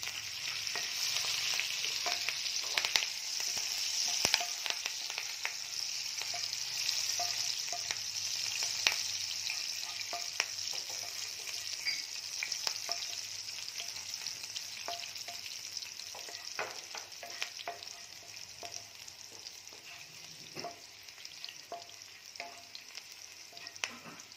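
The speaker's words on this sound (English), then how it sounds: "half spoon of jeera, then fine chopped chili, 2-3 chilies, green chilies" Cumin seeds and finely chopped green chilies sizzle in hot oil for butter paneer masala, making a continuous close crackle with frequent sharp pops and light stirring taps, fairly quiet and without talk.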